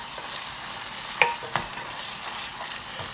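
Onions and ginger sizzle steadily in a hot pan for a curry sea bass dish, a close, continuous frying hiss broken by a couple of sharp stirring clicks, with no talk.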